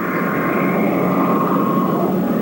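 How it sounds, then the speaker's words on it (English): A military jet aircraft high overhead during the US invasion of Iraq gives a steady, loud roaring drone with a sustained whining tone, unbroken for the whole stretch. "Is that aircraft over you"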